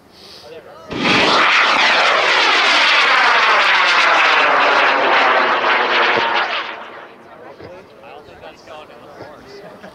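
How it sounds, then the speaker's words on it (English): A model rocket on a K-455 motor ignites with an abrupt loud roaring thrust that holds for about five seconds, then fades as it climbs away, followed by quieter background voices and ambient sound. "the away cell on the K-455 going in 5, 4, 3, 2,"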